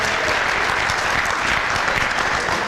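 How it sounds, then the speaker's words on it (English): Full, sustained applause from the audience at a high school jazz band Valentine concert, many hands clapping in a dense, even roar without pauses. "Round of applause for yourselves, please"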